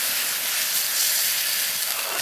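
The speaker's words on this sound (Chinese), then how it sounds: "全部炒香以后倒入开水。" Boiling water poured into a wok of dried chilies, scallion, ginger, garlic and seasoned sauce, giving a loud, steady hissing sizzle that fills the whole short moment without voices.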